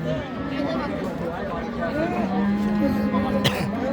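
Cattle low repeatedly at a busy Bangladeshi livestock market in Raniganj where Friesian cows and heifers are sold, long moos rising over constant crowd chatter and nearby talk.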